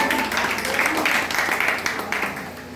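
An audience at a spiritual gathering claps together in a steady, broad patter that holds at an even level for a few seconds, with a murmur of voices underneath.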